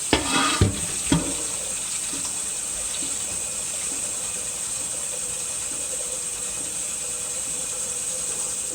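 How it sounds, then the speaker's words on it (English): Hot water pours steadily from a tap or kettle over soaked beans in a kitchen, a continuous bright rushing stream after a few sharp clunks at the start. "I'm only going to cover them with hot water."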